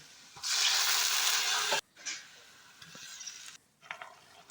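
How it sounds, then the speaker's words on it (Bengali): Onions frying in a wok after prawns, heard as a loud burst of hissing sizzle that drops off abruptly, then returns quieter with intermittent scraping and stirring, close and without speech. "এই যে পেঁয়াজটাকেও ভালো করে ভেজে নিচ্ছি"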